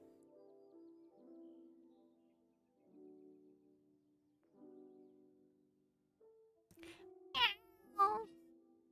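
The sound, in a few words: cat meowing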